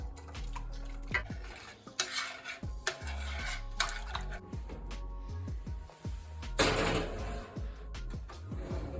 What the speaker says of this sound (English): Alright, so the beef is going back in.